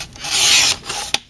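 A paper trimmer blade slides through a sheet in one short, close rasping stroke, ending in a small click.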